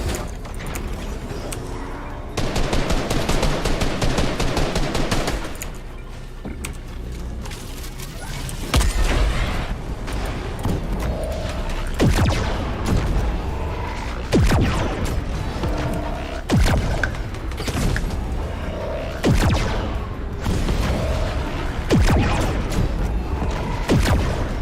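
Gunfire echoes through a competitive Fortnite-style match at Corny Complex, with bursts of sharp, repeated shots and mechanical clacks spread across the stretch, loud and close, with no voices.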